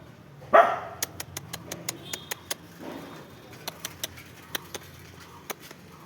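A dog gives a single sharp bark near the start, followed by a quieter second bark, while rapid metallic clicks or jingles tick steadily throughout.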